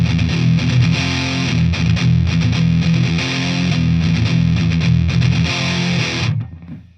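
Loud, crunchy distorted guitar chords through a Marshall DSL overdrive pedal ring out and are strummed repeatedly for several seconds, then cut off and fade at the end.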